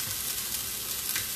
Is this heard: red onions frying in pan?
yes